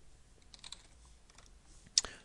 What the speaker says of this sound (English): First of all, I'm typing the @ symbol and then a name of a variable.